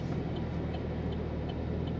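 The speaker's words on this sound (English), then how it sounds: "I have her in sport mode, which sounds the best coming out that exhaust." Steady low rumble from a 2013 Chevrolet Camaro ZL1 with manual transmission in sport mode, its engine and exhaust droning continuously and fairly loud from inside the car, with no talk.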